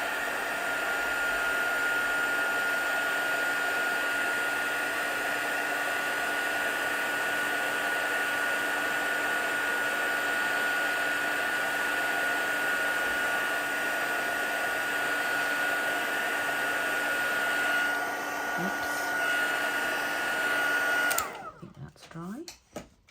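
A hair dryer blows steadily on a watercolour painting, a loud continuous whirring hum that runs unbroken for about twenty seconds and then cuts off.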